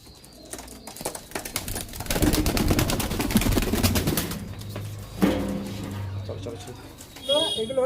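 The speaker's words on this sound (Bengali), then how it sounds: "এই দেখুন পায়রা দেখুন দেখতে পাচ্ছেন" Pigeons in a loft housing Oman teddy and big-size chini kaldum breeds coo and rustle under continuous nearby talk, with a sharper chirping burst near the end.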